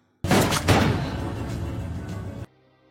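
Gunfire in an action film scene as a special forces squad fights attackers, a dense burst of loud, booming shots with sharp repeated cracks early on, cut off abruptly after about two seconds.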